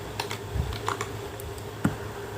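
Light typing on a computer keyboard while entering commands in GeoGebra, a few scattered key taps close by over a quiet background hum.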